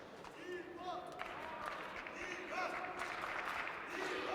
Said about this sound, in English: The crowd getting quite excited here